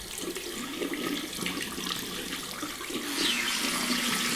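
Tap water runs steadily into a sink while a Philips OneBlade shaver is rinsed under it, a continuous close splashing hiss that grows slightly louder toward the end.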